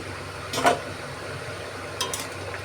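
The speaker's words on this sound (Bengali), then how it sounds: "ঢাকনাটা আমি খুলে দেখতেছি আলুটা আমার সিদ্ধ হয়েছে কিনা" A pot lid lifted off a pan of potatoes boiling for a spicy river morola fish curry, giving two brief metallic clinks about a second and a half apart over a steady low kitchen hum.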